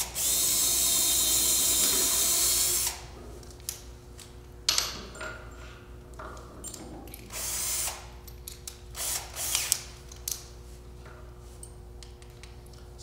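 A power drill drives big screws to hold down 4130 steel rods set in an axle hole, during setup for an aircraft pilot-seat load test. A loud, steady whir runs about three seconds, followed by scattered clicks, ratcheting taps and short bursts.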